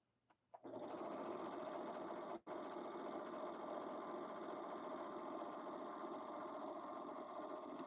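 A Juki sewing machine stitching pants starts after a brief quiet moment, running with a steady close mechanical whir and rapid needle rhythm, briefly pausing once before continuing.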